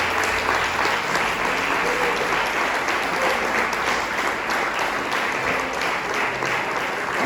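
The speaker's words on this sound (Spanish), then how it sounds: "Sí, denle un aplauso al Señor." A church congregation claps together in sustained, dense applause, a steady wash of many hands at even loudness throughout with no voices standing out.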